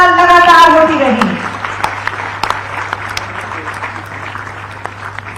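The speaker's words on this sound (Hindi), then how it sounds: "तालियां लगातार होती रही" Crowd applause at a ceremony in Ranchi where Ayush doctors receive appointments; a brief voice opens, then steady, dense clapping carries on at a moderate level.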